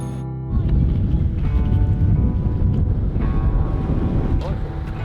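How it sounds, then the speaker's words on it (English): Steady low rumbling wind buffets the microphone throughout at Weaver Wharf, Cape York, with a brief quieter moment at the start before the gusty roar sets in. "It's a little bit windy, as you can probably hear that one coming through the sound right now."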